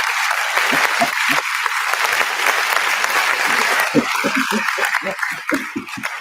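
Lively audience applause welcoming a blues musician, a steady wash of clapping with a voice talking over it and brief laughter from the crowd.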